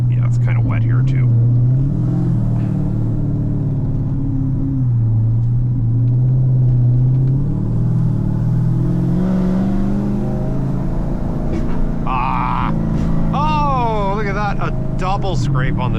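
A turbocharged Dodge Challenger SRT8 rumbles on wet pavement, its engine revving with rising turbo spool whistles near the end, loud and close, with people talking quietly underneath.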